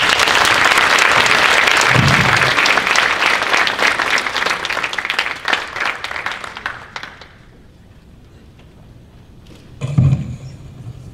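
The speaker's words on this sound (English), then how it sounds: "Let's give Dilawar Syed another round of applause, please." Conference audience applause, loud and dense for about seven seconds, then thinning to scattered claps and fading to near silence before a brief short burst of clapping returns near the end.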